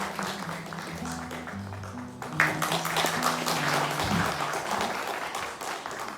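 Audience applause at a memorial ceremony marking the first anniversary of a death, a steady wash of clapping from a crowd over a low sustained musical tone, swelling slightly after a couple of seconds and holding throughout.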